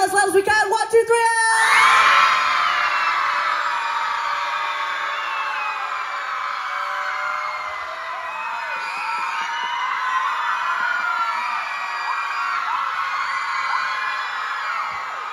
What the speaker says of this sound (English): on the count of three, we're going to yell as loud as we can